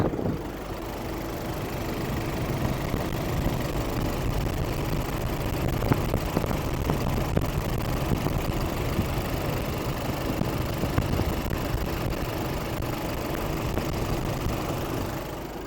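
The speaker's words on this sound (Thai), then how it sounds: "เดี๋ยวลองมาฟังเสียงเครื่องยนต์กันดูนะคะ" The diesel engine of an Isuzu D-Max pickup truck idles steadily with a rough, knocking rumble, close and constant throughout with no other sounds.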